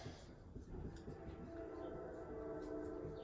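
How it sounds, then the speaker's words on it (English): A train passing near a home in South Amboy, a broad continuous rumble and rolling noise with a faint higher whine, steady and fairly loud throughout the short stretch. "And here comes the train."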